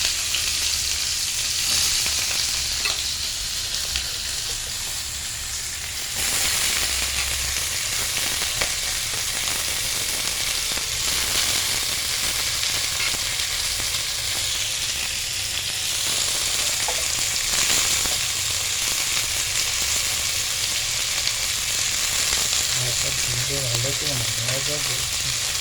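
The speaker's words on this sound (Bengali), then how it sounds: "তেল গরম হয়ে গেছে, এবার ফুলকপি আলুগুলোকে ছেড়ে দেওয়া হচ্ছে।" Cauliflower and potatoes fry in hot oil with a dense, continuous sizzle that holds steady throughout, with a few brief bumps and clatters.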